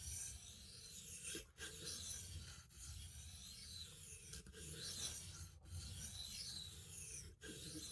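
A blade is being sharpened to set a bevel, heard as steady rasping strokes that grind back and forth in long passes, each broken by a brief pause, close and quiet with no talking.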